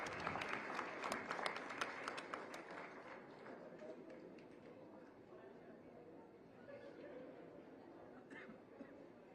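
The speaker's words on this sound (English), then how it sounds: "A big round of applause, please." A convocation audience applauds a medal winner at the Indian Institute of Foreign Trade, dense clapping strongest at the start and then thinning into a softer, steady patter with crowd murmur underneath.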